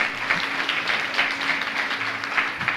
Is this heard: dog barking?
no